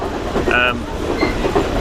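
Steady rumble of a train carriage rolling along rails in Sri Lanka, with faint rattling and a brief high squeal, continuous and close.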